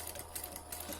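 A sewing machine stitches fabric in a quiet, rapid, even whir with faint ticking, stitching a roll-up storage case for pens and brushes.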